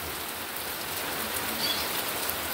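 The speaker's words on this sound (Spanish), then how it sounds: "vamos a ir a mostrarles acá para el otro lado cómo está la lluvia" Steady rain falls on a rainy day, a continuous close hiss of drops pattering on surfaces, even and moderately loud with no voices.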